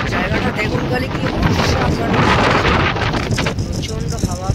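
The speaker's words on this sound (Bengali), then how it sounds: "প্রচণ্ড হাওয়া, প্রচণ্ড হাওয়া।" Strong wind at Pamban beach in light rain roars and buffets the microphone in a loud, continuous rush, with a voice faintly underneath.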